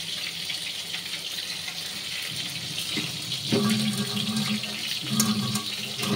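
Water runs and splashes into a ground spice paste for a Kolkata-style home-cooked prawn dish, a soft steady trickle that swells into a fuller pour near the end.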